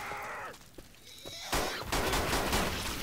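Gunfire in a Halloween video game: after a moment of game sounds, a loud, dense burst of rapid shots and crashing noise breaks out and carries on to the end.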